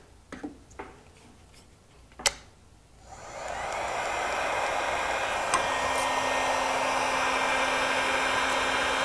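A few light clicks and taps come first, then a heat gun switches on to warm an aluminum carburetor body. It settles into a steady, close, breathy blowing roar that holds at an even level to the end.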